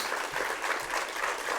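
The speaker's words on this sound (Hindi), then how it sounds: "आपकी तालियों की गड़गड़ाहट" Audience applause in a hall during a Jain monk's motivational talk to students: steady, dense clapping from a crowd, sustained at an even level throughout, with no speech over it.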